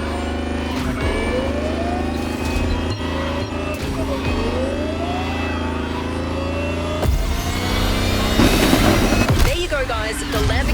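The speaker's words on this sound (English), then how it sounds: "The Lamborghini Terzo Millennio like you've never seen it before." A Lamborghini Terzo Millennio races toward the finish in the driving game The Crew Motorfest, its loud engine holding a steady drone with rising whines as it climbs through the gears and a rougher roaring surge near the end.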